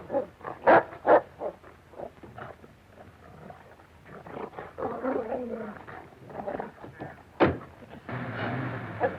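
A dog barks and growls in several sharp bursts, interrupted by scuffling and brief pauses, fairly close, ending in a rough snarl.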